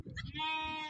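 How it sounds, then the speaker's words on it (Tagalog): A single close bleat from a sheep or goat among livestock in the Dubai desert, about a second long, wavering at first and then held as a steady cry. "Tupa, kambing."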